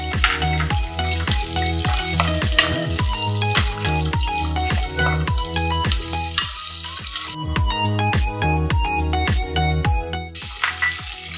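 Cashews fry in a pan with whole spices and chillies for fenugreek pulao, a close sizzling crackle heard over a rhythmic, repeating musical backing.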